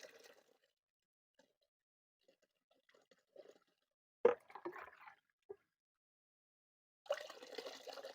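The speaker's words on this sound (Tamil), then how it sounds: "அடுத்து இந்த ஓமவல்லி கரைசலையும் வடிகட்டிக்கிறோம்." Liquid omavalli herb solution is strained into water, making scattered soft drips and plops with one sharper splash, followed by a brief burst of pouring and trickling, all quiet and close with no talk.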